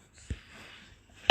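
Someone coughs during a game session: a short, soft burst early on, then a louder, harsher cough at the end against quiet background.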